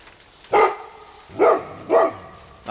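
Gage the dog barks three times out in the woods, sharp and fairly close, with short pauses between the barks and a quiet outdoor background.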